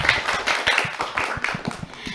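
Audience clapping at a school inclusive-education event in Tolitoli, dense and steady with a few sharper individual claps standing out, fairly close and moderately loud for about two seconds.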